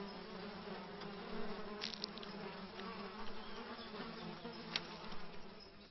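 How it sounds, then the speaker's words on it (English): Biting insects buzz steadily around a nest reeking of old kills, a continuous droning hum with a few brief louder passes as individuals fly close, no voices present. "Biting insects are a constant torment."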